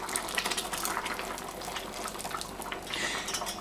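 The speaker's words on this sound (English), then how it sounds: "As you can see, we're adding the water." Water pouring steadily into a pot for Spanish rice, a continuous, moderately faint splashing rush that lasts the whole moment.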